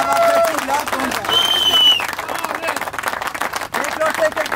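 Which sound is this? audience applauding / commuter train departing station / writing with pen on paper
audience applauding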